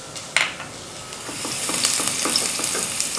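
Chopped garlic sizzling in about a quarter cup of hot oil, a steady crackling fry that rises after an initial clatter, close up with no voices.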